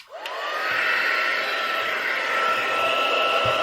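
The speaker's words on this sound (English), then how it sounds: "And we'll just quickly get the heat gun." A heat gun used for embossing blows continuously for a few seconds, its fan whine rising quickly after switch-on into a steady, close rushing hiss with no talk.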